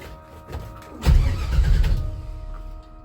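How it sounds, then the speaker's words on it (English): A Chevy 350 V8 in a 1966 Chevy C10 pickup cranks briefly, then catches and roars to life with a loud, rough burst from a barely muffled exhaust before settling slightly, heard close and alone. "Let me start off by saying, when I start this thing, there's not much exhaust on it, so it might be somewhat loud."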